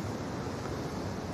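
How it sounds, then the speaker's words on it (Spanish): Sea waves roll in a steady, dense wash of surf and wind on an English coastline in the film Ammonite, moderately loud and continuous with no voices. "está muy fuerte el sonido del mar"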